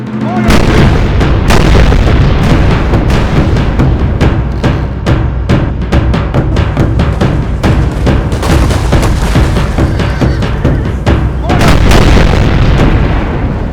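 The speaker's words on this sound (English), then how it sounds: "with the Teutonic cannons roaring as the battle commenced" Heavy Teutonic cannon fire in a Total War video game booms repeatedly in a dense, continuous barrage, loud and close, with battle noise filling the gaps.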